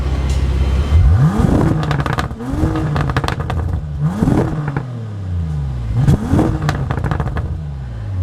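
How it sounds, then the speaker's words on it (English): A deep-toned Bentley GT Speed W12 engine revs hard several times in a row, each rise followed by crackling exhaust pops as the revs drop back down. "It's a really low note, like a deep sounding exhaust, but it still has pops and cracks."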